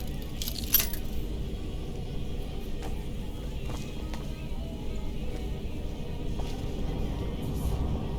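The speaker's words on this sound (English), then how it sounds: "I gotta pick the lock." Lock picking in the video game Skyrim gives light metallic clicks and jangling scrapes over a steady low game ambience, with a few faint ticks spread across the stretch.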